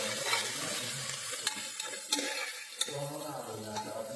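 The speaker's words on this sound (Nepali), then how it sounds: "यसलाई एकछिन यतिकै भुटुङ है।" Onion and tomato fry in a pan with a close, steady sizzle, broken by sharp clicks and scrapes as a spoon stirs them.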